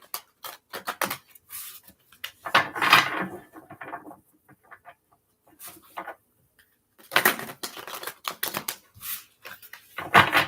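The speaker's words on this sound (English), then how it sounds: "I'm going to get a couple shuffles for you, Donna." Cozy Witch tarot cards are shuffled in quick, crisp rattling bursts separated by quiet gaps, close and fairly soft.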